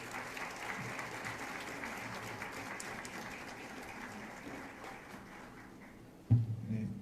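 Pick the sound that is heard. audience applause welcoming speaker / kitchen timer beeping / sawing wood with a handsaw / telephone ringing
audience applause welcoming speaker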